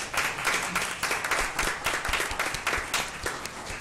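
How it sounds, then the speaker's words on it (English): Audience applause fills a school board meeting of Jackson Public Schools trustees, dense overlapping claps from a sizeable crowd holding a steady, moderately loud level with no voices over it. "Let's give them a round of applause"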